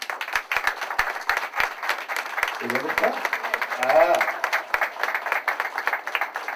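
Audience applause and cheering greet a young painter at an evening art event held with a chamber of commerce, steady clapping throughout with people speaking over it.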